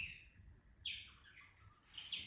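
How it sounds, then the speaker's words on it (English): Chirping from an indoor bird clock, a faint synthetic bird song of repeated high tweets and trills, soft and somewhat distant in a quiet room. "oh, that's my bird clock."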